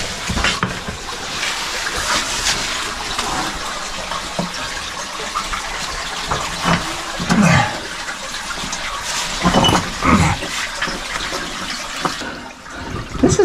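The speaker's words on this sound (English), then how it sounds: "I'm just crawling through the water." Water sloshes and splashes up close as someone crawls on hands and knees through low water in an unstable, bat-filled cave, with irregular bursts of churning water and no talking.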